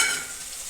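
Fenugreek seeds hit hot oil with a brief bright sizzle that starts loud and settles into a steady hiss, close by and without any talking.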